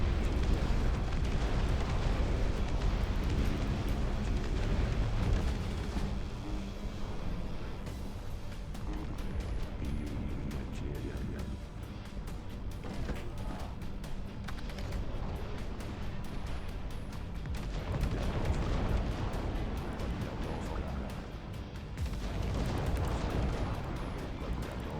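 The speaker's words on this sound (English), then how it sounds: "clearly hit the fucking thing that's shooting artillery" In the real-time strategy game Dust Front RTS, artillery fire and explosions rumble almost without pause, heavy low booms layering over one another at high volume, easing briefly midway before swelling again.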